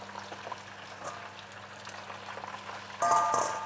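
Potato chips go into oil heated to about 180 degrees: a low steady hum and quiet bubbling give way near the end to a sudden, louder burst of hissing sizzle.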